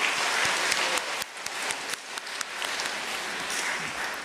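A congregation at a Catholic turnover ceremony claps together, a sustained crowd applause with many overlapping hand claps, moderately loud and continuous throughout.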